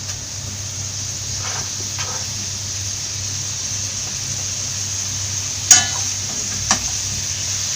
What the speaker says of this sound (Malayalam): ഈ എണ്ണയിലേക്ക് അരിഞ്ഞു വെച്ചിരിക്കുന്ന 2 വലിയ സവോള ഇട്ട് കൊടുക്കാം